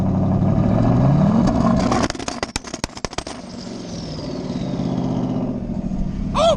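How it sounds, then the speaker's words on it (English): A Chevrolet-engined Ford Mustang on E85 fuel holds revs on two-step launch control, loud and close: a steady engine drone breaks into a rapid stutter of sharp popping and crackling bursts, then settles into a rising, droning rev. "I have the two-step on this thing wired to the defrost, so I click this on, and then I hit the brake"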